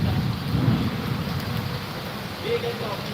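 A thunderstorm in Amreli, with wind and rain, makes a steady, close rushing wash of sound, with a brief tonal sound rising near the end.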